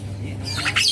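A young Javan myna gives a short, harsh squawk close by, rising over a low background hum within about a second.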